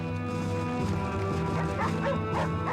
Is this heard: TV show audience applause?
no